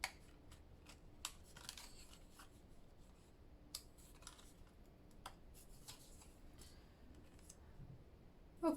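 Scissors cutting out box pieces, with quiet repeated snips and soft paper rustling, close and faint, heard alone without talk.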